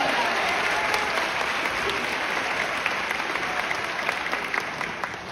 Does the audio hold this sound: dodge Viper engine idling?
no